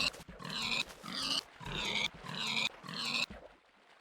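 Pigs in the video game Minecraft oink in a run of five or six short, closely spaced grunts, loud and alone with no talk, ending in a brief quiet tail.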